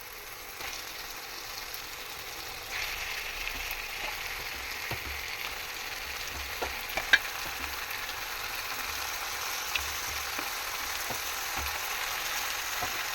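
Chicken fries in a pan with softened tomato and onion, giving a steady, close sizzle with a few faint scrapes of stirring and no talking.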